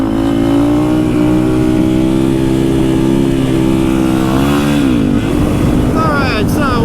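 A 250 motorcycle wearing ZX-10 stickers cruises at sundown, its engine a loud, steady drone close up that dips and shifts in pitch near the end with a brief change of throttle.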